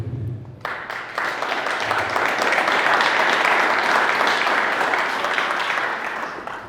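Sustained audience applause at a business talk on sales, a dense steady wash of many hands clapping that swells after a brief quieter start and holds loud throughout, with no speech over it.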